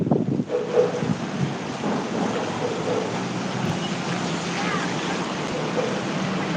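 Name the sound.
rain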